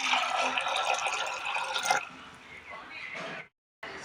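Water pours onto soaked green moong dal in a pressure cooker, a splashy, gurgling stream that softens and then stops, with a short break before more liquid sounds.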